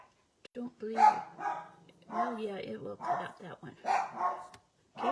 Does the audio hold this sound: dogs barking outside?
yes